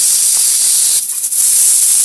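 A pressure cooker of beans and green peas on a kitchen stove releases steam in a loud, steady, close hiss that surges briefly, heard alone.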